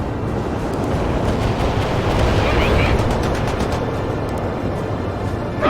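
Weapons fire in the real-time strategy game World in Conflict, a loud, continuous roar of gunfire and explosions, with radio-style voices talking over the battle.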